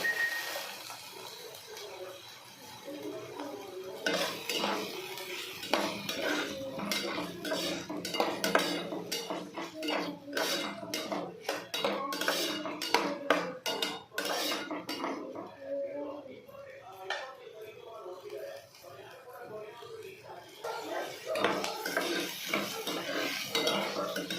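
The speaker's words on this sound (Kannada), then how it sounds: "ಆನಿಯನ್ ಸ್ವಲ್ಪ ಸಾಫ್ಟ್ ಆಗೋವರೆಗೂ ಚೆನ್ನಾಗಿ ಫ್ರೈ ಮಾಡ್ಕೊಳ್ಳಿ" Chopped onion frying in oil in a pan for okra dry fry, carried by busy, close metallic scraping and clinking of a spatula against the pan over a low sizzle, with brief pauses between bursts of stirring.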